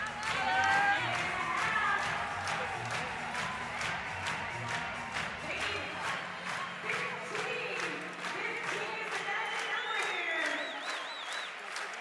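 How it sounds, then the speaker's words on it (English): An arena crowd at a CrossFit Games semifinal in Europe breaks into sustained rhythmic clapping and cheering, loud and continuous, with an announcer talking over it. "how about the entire arena erupting in a clap"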